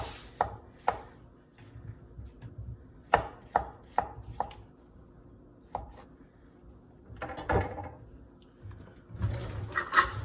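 A knife chops vegetables on a cutting board while making Italian wedding soup, giving crisp, irregular close knocks, sometimes single and sometimes in quick runs, ending in a rougher scraping flurry.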